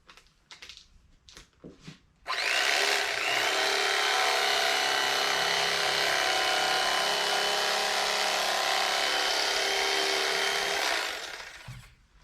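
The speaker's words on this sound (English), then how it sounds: "This little electric steak knife, I think I paid 14 bucks for it on Amazon." A cheap electric steak knife buzzes steadily through motorcycle seat foam while trimming the front of a Honda CB350 seat, a loud continuous motor whine for about nine seconds after a few brief handling clicks.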